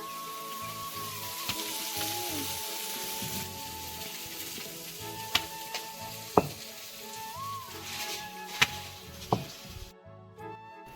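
Food cooks on a home stove with a steady, fairly quiet frying sizzle throughout, broken by a few sharp metallic clinks and taps, with faint tonal sounds in the background.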